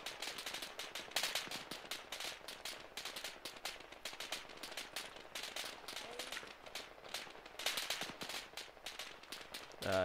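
Rapid gunfire crackles throughout an ArmA 3 firefight set in Africa, dense bursts of automatic shots and single rounds at varying distances, with a voice briefly heard.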